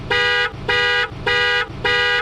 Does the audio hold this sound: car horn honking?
yes